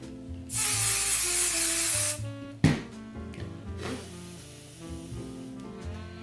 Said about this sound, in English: Spray some temporary spray adhesive on the stabilizer.